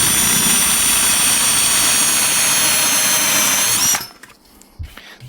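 A drill with a step bit bores a hole for a 5 L pressure sprayer compressor mod, a loud close whining roar for about four seconds that stops abruptly, followed by faint handling noises.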